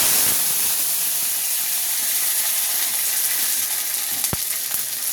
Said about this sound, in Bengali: তেলটা গরম হয়ে গেছে, এবার দিয়ে দেবো সর্ষে।